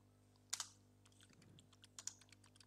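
Computer keyboard typing, a few faint close key clicks scattered over a quiet background hum.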